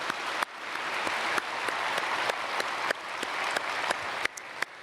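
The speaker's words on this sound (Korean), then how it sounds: "박수로 축복하겠습니다" A church congregation claps in blessing for a retired pastor at a Sunday service, a steady, moderately distant patter of many hands with a few sharper individual claps standing out through the stretch.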